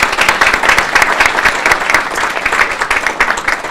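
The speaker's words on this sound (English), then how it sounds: "So just a round of applause for the Good Samaritan staff." A crowd at a morning community gathering applauds the Good Samaritan staff, with brisk, dense clapping that holds steady and loud for a few seconds.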